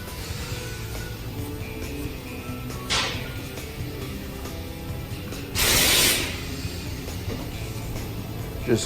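A hand ratchet tightens the oil drain bolt on a 2010-2017 Nissan Versa during an oil change. Soft clicking bursts are heard close up, with a brief spray hiss near the middle and quiet garage background.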